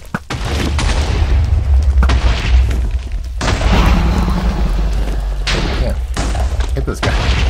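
Gunfire in a video game, several heavy booming shots and thuds spaced across the stretch, loud and close, with a person talking over them.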